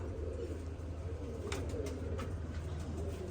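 Soft pigeon cooing sits over a low, steady background hum, with a few faint bird calls standing out briefly; quiet and somewhat distant.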